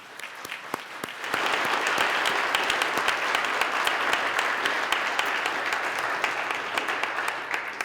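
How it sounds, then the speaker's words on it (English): Sustained applause from a commencement audience for the graduating class of 2021, beginning with scattered claps and swelling after a second into a full, steady ovation that continues to the end. "Let's give them a big round of applause"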